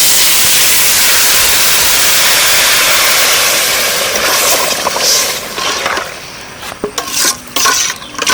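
Water poured onto rice fried in a pan for pulao, a loud, steady rushing hiss and sizzle that fades after several seconds into softer bubbling and a few clanks of a utensil against the pan.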